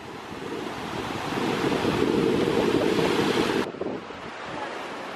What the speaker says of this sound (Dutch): Wij zijn bij een zee.